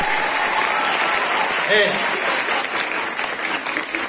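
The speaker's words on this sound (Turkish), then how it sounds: "Bir daha alkışlayalım mı?" An audience at a Teachers' Day school program applauds with steady, continuous clapping throughout, and a voice speaks briefly over it.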